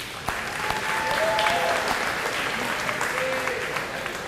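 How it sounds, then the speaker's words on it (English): A crowd at a high school athletic banquet breaks into loud, continuous applause, many hands clapping close and full, with faint voices and a few whistles threaded through the din. "give yourself a round of applause, please"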